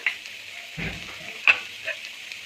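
Sliced onions frying with turmeric and coriander powder for dhaba-style sev bhaji, giving a steady close sizzle with a few louder stirring scrapes and clinks of a spoon against the pan.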